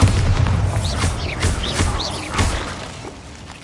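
A Bombarda spell explosion from Hogwarts Legacy bursts with a loud crash and shattering debris at the start, followed by crackling and a second smaller boom.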